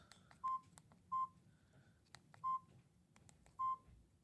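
Four clean, short keypad beeps from a Samsung SGH-T105G TracFone phone, evenly spaced about a second apart, close and clear over faint handling clicks and room noise.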